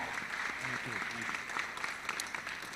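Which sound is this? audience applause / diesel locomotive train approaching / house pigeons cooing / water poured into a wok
audience applause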